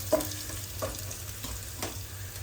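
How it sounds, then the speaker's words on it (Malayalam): Two green chillies drop into a pan of pulao frying in Qatar, bringing a soft steady sizzle with a few light stirring scrapes, close and moderately quiet, and no talk. "ഞാൻ 2 പച്ചമുളകും കൂടി ഇടുവാണ്."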